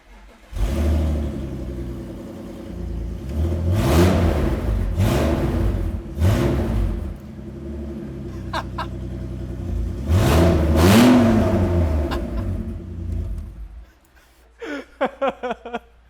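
BMW race car engine revving hard through an open exhaust, repeated loud rising blips and roars over about fourteen seconds, then cutting out as brief voices follow.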